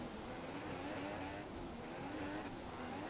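Formula 1 race cars in a racing video game, a Haas and a Renault battling for position, their engines screaming and revving together in a loud continuous roar with shifting pitch as one car passes the other.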